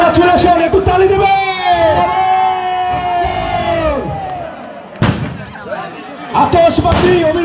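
Fireworks at a football final celebration give off whistling streaks and a sharp bang over a cheering crowd, while an announcer talks through it.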